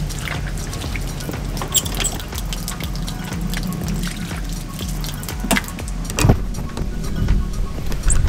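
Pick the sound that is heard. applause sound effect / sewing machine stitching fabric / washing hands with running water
washing hands with running water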